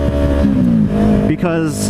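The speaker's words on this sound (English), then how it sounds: "I can't really hear the wind over the sound of the exhaust" A motorcycle exhaust on a moving bike, heard from inside an AGV K3 SV helmet: a loud, steady engine drone with rising and falling revs and someone talking over it.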